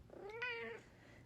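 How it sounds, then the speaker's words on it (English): A cat meows once, a clear drawn-out cry with a rising then falling pitch, close by and alone. "And my cat just keeps meowing at exactly the right times."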